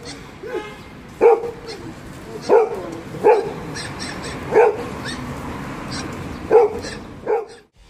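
A chihuahua, alongside a German shepherd, gives a series of sharp, high yapping barks at irregular intervals, loud and close, over a noisy background with some whimpering.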